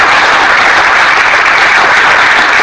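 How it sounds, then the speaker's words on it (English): Loud, steady clapping from a room of teacher-training students in Mysore fills the space without pause, a dense close wash of many hands and no voices. "Clap well."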